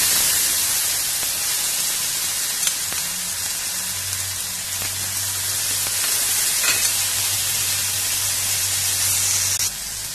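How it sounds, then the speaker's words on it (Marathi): Soaked lentils dropped into hot oil already tempered with cumin and mustard seeds: a loud, dense, continuous sizzle and crackle close by that holds steady throughout, then eases slightly at the end, with no talking. "आता ह्यामध्ये आपण भिजलेली डाळ टाकून घेणार आहोत."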